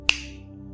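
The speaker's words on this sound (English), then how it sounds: "I am going to count to 3 and snap my fingers" A single crisp finger snap, close and sharp, that rings out briefly over a soft background hum before fading.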